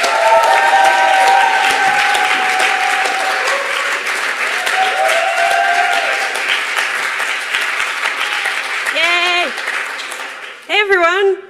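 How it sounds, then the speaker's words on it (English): A crowd applauds loudly to welcome a speaker onto the stage at a green European political event, a dense sustained roar of clapping with a voice over it, then brief tonal sounds near the end. "Hold the applause."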